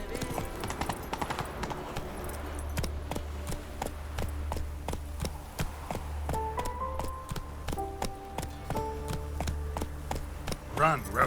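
A horse named Roach gallops in The Witcher 3: Wild Hunt, its hooves making a steady, rhythmic clip-clop over a low rumble of travel. A short voice and some game sounds come in near the end.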